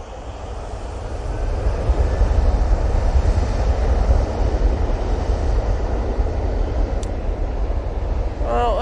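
A TUI airliner passes at Manchester Airport as a loud, broad, steady jet roar with heavy low rumble and wind buffeting, building slightly and holding, while someone speaks briefly near the end.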